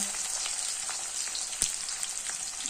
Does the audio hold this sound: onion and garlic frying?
yes